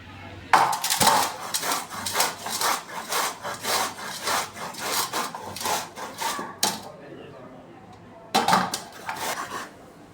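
Carrots being grated by hand for carrot halwa, a fast rhythmic rasping in steady strokes, close and loud, with a brief pause before the scraping resumes.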